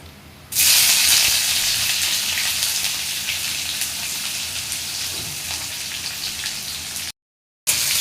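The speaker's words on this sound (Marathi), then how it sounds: "कढीपत्ता चांगला तडतडला की आज कांदा घालूया" Chopped onion dropped into hot oil with curry leaves in a kadai sizzles loudly and steadily for about six and a half seconds, then cuts out briefly before the hiss returns.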